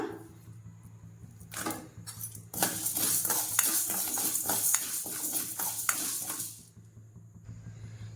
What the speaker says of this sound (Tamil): பூண்டையும் சேர்த்துட்டு எல்லாம் ரெண்டும் சேர்த்து நல்லா வறுக்கிறேன்னா